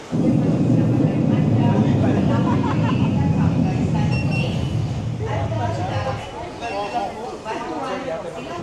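A driverless metro train in Kuala Lumpur rumbles loudly into a station with a low, heavy roar that fades after several seconds, while people talk over the noise.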